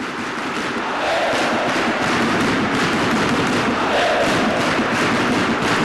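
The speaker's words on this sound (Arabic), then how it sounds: "بداية التشجيع تاني من الجماهير الوفية للنادي الأهلي" Large crowd of Al Ahly supporters roaring and chanting at a women's volleyball match against Sporting in an Arab championship, a loud, dense, continuous cheer filling the arena and swelling after the first second.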